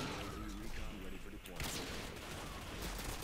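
Gunfire shot through a wall in Modern Warfare 2, a dense burst of shots running steadily across the moment, loud and busy with game sound, with a voice talking over it.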